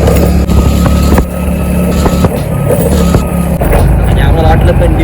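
A vehicle being driven, its engine running with a loud continuous rumble and road noise throughout, close up, with people talking over it.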